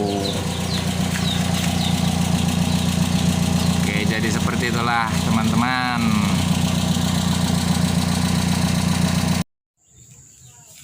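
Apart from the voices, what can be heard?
car exhaust muffler engine idling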